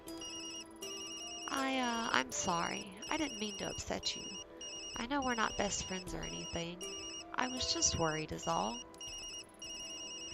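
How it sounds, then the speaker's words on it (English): In the video game Tokyo Dark, a phone rings with a steady, repeating electronic ring that runs throughout, while a voice speaks over it. "Sorry, Yumi. That's my phone."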